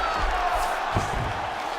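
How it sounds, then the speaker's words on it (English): Video-game arena crowd in UFC 5 cheering and roaring during a Khabib Nurmagomedov versus Alexander Volkanovski fight, a steady broad wash of noise with a few brief thuds and swells, no clear talk over it. "crowd just loving it"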